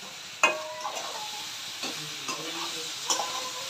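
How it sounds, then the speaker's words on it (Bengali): Spices for a soybean curry fry in a pan, a soft steady sizzle broken by several sharp scraping stirs of a spatula, close and without talk. "মশলাটাকে এখন ভালো করে ভাজা ভাজা করে"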